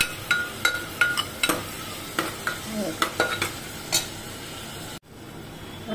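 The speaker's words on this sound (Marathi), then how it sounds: "छान परतवून घ्यायचं आहे, थोडंसं मीठ टाकायचं म्हणजे लवकर मऊ होतं आणि परतलंही जातं छान" Vegetables are sautéed with a little salt in a pan, a spatula scraping and clacking against the metal in irregular strokes over a soft ongoing sizzle, close up, with a brief dropout near the end.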